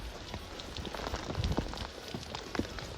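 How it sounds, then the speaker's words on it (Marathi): Soft, steady patter of rain falling on a surface at a hill fort near Lonavala, a dense, even hiss of drops with no voices. "पाऊस काही थांबत नाही"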